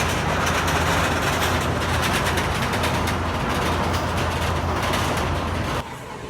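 Valravn, a steel roller coaster at Cedar Point, roars past with a sustained broad rumble and rattling wheels at close range, then drops abruptly quieter near the end.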